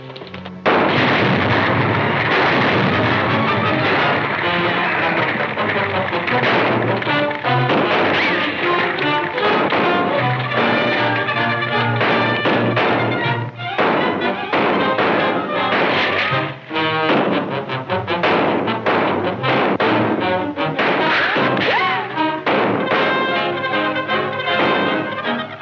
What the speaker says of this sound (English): That explosion must have opened the vein.